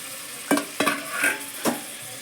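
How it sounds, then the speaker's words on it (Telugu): Boiled potato pieces are stirred into a sizzling aloo kurma in a pan: a few distinct scraping strokes of a spoon over a soft, steady frying hiss, with no talking. "దీంట్లోకి మనం ముందుగా ఉడికించి పెట్టుకొని ముక్కలు కట్ చేసుకున్నటువంటి బంగాళదుంపలని యాడ్ చేద్దాం."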